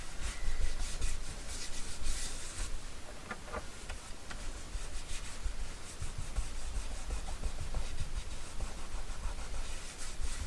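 Sizzix Luster Wax in Lilac Rose being smooshed and rubbed by hand over black areas of a paper craft pocket, a steady close-up scuffing and rubbing texture that continues without pause.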